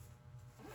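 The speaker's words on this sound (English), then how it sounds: "When I close this bag," A short zipper pull closes a bag, a quick soft rasp at close range with nothing else heard.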